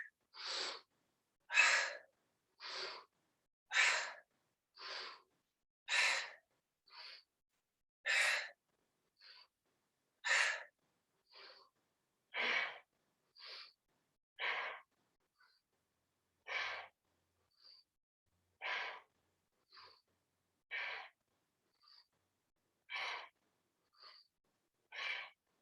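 Slow, deep yoga breaths, a long series of separate, evenly spaced airy inhales and exhales with quiet pauses between them, close and soft, with no talking.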